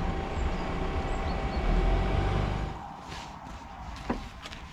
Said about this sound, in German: Schranke zu, zack, Zug und zack, Schranke hoch.